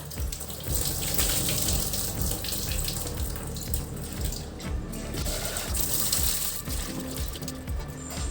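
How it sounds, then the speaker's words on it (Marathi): Peas being washed twice in clean water under a running kitchen tap, a steady close splashing stream that continues throughout with no talking. "छान स्वच्छ पाण्याने धुवून घेते दोन वेळा"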